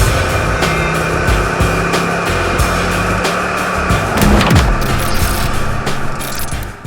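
A 1987 Oldsmobile 442 with factory T-tops and low mileage out on a test drive: a steady, loud engine and road drone fills the interior, with a brief swell of acceleration partway through and no talking.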